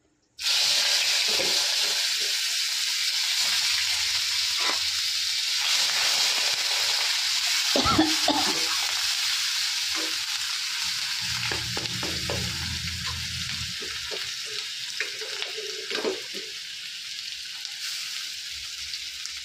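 Onion paste hits hot oil in a pan for doi katla with bay leaf already in, setting off a steady, loud sizzle and hiss that lasts throughout, broken by occasional scraping stirs, with no talking.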